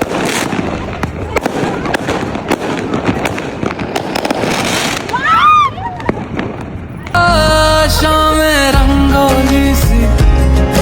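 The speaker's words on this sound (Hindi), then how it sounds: "अब टाइम आ गया है सबसे फन पार्ट का, पटाखे" Fireworks and firecrackers go off at a Diwali celebration in Dubai, with rapid crackling bursts, whistles and bangs at fairly close range. Partway through, loud music with singing takes over.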